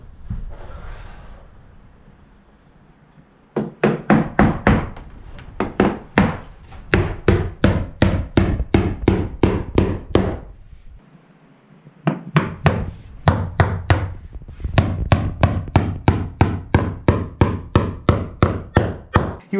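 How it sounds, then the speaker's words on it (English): A hammer drives square cut nails into wood barn boards in long runs of sharp, evenly spaced blows, close and loud, with brief pauses between nails. "He was really happy to swing the hammer."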